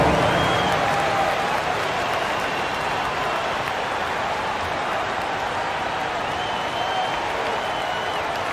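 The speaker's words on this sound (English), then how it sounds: "Give yourself a round of applause." Sustained applause and crowd noise from a large arena audience, steady and fairly loud throughout with no break, in the video game NBA 2K25 during a Sacramento Kings vs Utah Jazz preseason game.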